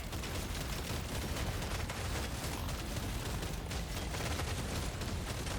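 Dense, continuous barrage of electric shotgun fire in Deep Rock Galactic Survivor, a steady crackling wash of rapid shots and impacts at constant high loudness with no clear pauses between blasts.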